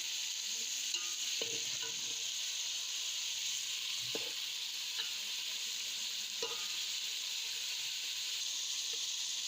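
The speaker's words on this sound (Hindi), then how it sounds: "हमने एक प्लेट प्याज ली है, वो डालेंगे ऑयल में।" Onions sputter in hot oil for a karela-and-onion dish, a steady close sizzle running throughout with a few soft stirring knocks scattered across it.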